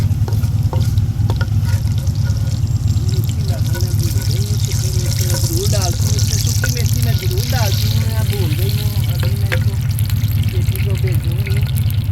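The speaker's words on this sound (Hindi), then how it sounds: "अब इसको भूनूँगी थोड़ा सा" Okra curry fries in a pan with cumin and dry fenugreek, giving a constant loud sizzle with scraping stir sounds, while someone talks over the cooking throughout.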